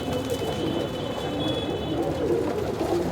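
Several pigeons coo in steady, overlapping throaty murmurs that run without a break, with a faint high whine in the background.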